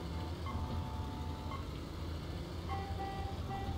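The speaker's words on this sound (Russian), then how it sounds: "Посигналим ему, что он себе думает." A truck horn sounds in the 18 Wheels of Steel trucking game, two steady tonal honks, the first longer and the second shorter, over a constant loud engine and road drone.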